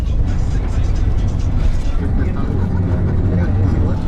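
Crowded bus driving along a rough unpaved road in Honduras, with a loud, steady low engine rumble and road noise filling the whole stretch, people talking over it.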